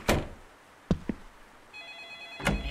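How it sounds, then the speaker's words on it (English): A couple of dull thuds, then a telephone ringing in an indie horror video game, starting partway through and continuing briefly over a hushed, dark ambience. "Answer the phone."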